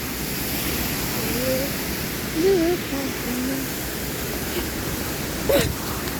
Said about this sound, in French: Voilà la cascade